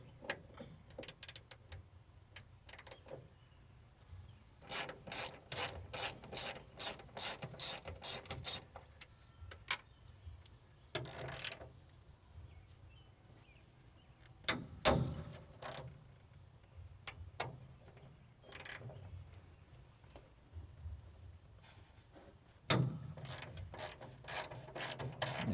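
Ratchet wrench working 12 mm hood hinge bolts loose on a 1992 Volvo 240: faint repeated clicking runs in bursts, with sharper knocks and metal handling between them, and no speech.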